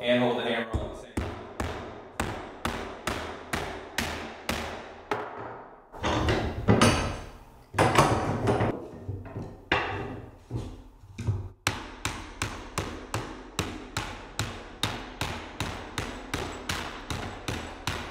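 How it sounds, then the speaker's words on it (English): A hammer drives nails into a clamped wooden board being distressed for a weathered look. It gives a long run of sharp, evenly spaced knocks, with a busier, denser stretch of blows partway through. "it's really hard to hold the board, hold the nail, and hold the hammer on the same time."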